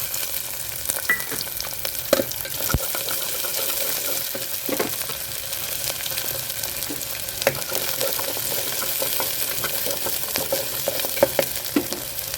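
Onions sizzle and crackle steadily in hot oil while making nonbu kanji, a constant frying hiss with occasional stirring clinks and pops close by.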